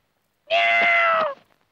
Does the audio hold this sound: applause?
no